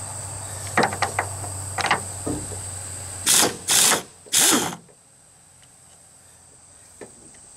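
A hand ratchet loosening a 13mm strut bolt on a Chevy Cobalt, a few short clicking strokes followed by three louder, longer ratcheting bursts, then quiet.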